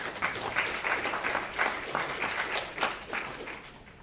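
An audience at a Ruby programming meetup applauds a speaker after his talk, a moderate round of clapping with distinct individual claps, fading slightly toward the end.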